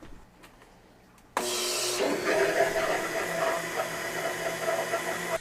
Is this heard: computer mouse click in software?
no